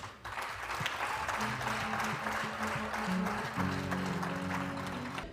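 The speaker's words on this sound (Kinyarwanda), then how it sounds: "nagira ngo mbasabe mwese mukomera amashyi Inkotanyi." An audience applauds the Inkotanyi at a gathering on art's role in the liberation struggle, steady sustained clapping throughout with music playing underneath.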